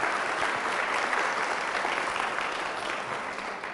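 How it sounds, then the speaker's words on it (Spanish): A church congregation gives loud, sustained applause during a priest's homily, a dense wash of many hands clapping that stays steady and fades slightly toward the end. "Fuertes aplausos a Jesús de Nazaret por su amor y su misericordia"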